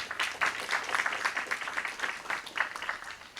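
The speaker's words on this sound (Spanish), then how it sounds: "recibamos con grandes aplausos la presencia de la doctora" Audience applause welcoming a doctor as speaker at a lecture on the Constitutional Court's binding precedents: a modest crowd clapping steadily, soft and even for several seconds with no talking.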